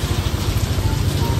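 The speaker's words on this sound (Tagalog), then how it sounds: "napakalakas ng ulan na tinabot na tayo" Heavy rain pouring down steadily and densely around a part-time Lalamove delivery rider caught out on the road, a constant loud wash of drumming drops with no speech.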